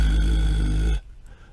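A low, rough, crackling vocal-fry bass singing drone held for about a second, then cutting off abruptly into near silence.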